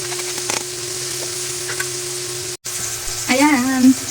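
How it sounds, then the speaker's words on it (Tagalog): Salmon frying in hot oil in a pan, a steady bright sizzle with a constant hum beneath it. The sound cuts out briefly, then a louder burst of sputtering comes in near the end. "nagpainit na tayo ng mantika para sa ipiprito nating salmon"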